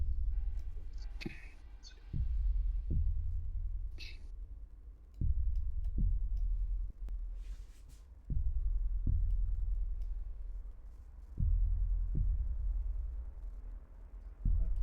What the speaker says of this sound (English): that heartbeat is killing me